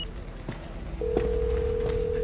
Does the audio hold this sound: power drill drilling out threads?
no